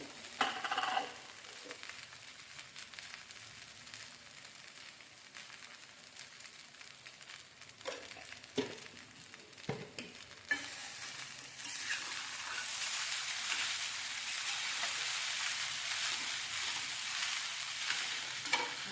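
Kurdai vegetable being stirred and sautéed in a pan, a steady close sizzle with scraping stir strokes that grows louder and denser in the second half, no talking.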